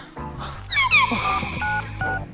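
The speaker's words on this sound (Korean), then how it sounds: "나 근데 엄마한테 전화 한번 하고 갈게요." Telephone keypad dialing tones, a quick series of clear steady beeps pressed one after another on a phone, loud and close over a low background hum.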